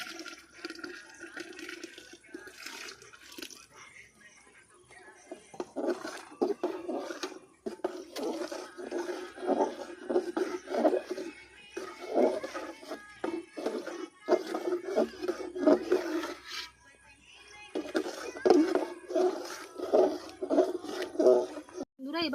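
Milk pours into a pot of softened rice for payesh, a rice pudding, giving uneven splashing and sloshing liquid sounds that come and go in bursts, loud at close range.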